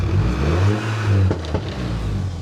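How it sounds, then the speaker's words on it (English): A VW Scirocco TSI GT with a big turbo and massive exhaust pipes runs close by, its engine droning steadily while a couple of sharp crackling pops break through near the end. "Just listen to the exhaust."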